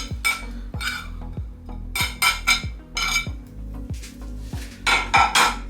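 Carrots and broccoli go onto a metal oven tray with clinks and clatter of pieces and utensils against the pan, repeated close knocks in uneven bursts over a steady low musical hum.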